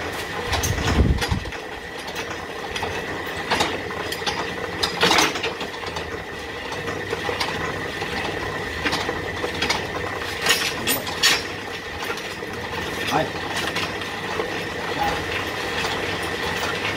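Single-phase electric motor of a well-drilling rig for grounding and lightning-protection wells, running steadily throughout with a dense rattling drone and scattered clanks, loud and close, no talk.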